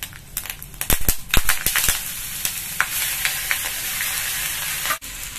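Ground ginger and green chili paste frying in hot oil for samosa filling, a steady close sizzle with sharp pops and stirring scrapes early on, then settling into continuous crackle before a brief break near the end.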